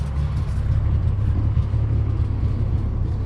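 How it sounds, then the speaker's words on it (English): 2016 Ford Mustang EcoBoost idling steadily on its own, a low, even rumble close by with faint higher noise above it, unbroken for the whole stretch. "But now she's idling on her own."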